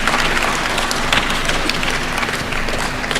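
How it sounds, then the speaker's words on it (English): Audience applause fills a graduation ceremony at the University of Eastern Africa, Baraton, as a Bachelor of Education graduate is honoured; dense, steady clapping from a large crowd runs throughout at even loudness. "Let's clap for her."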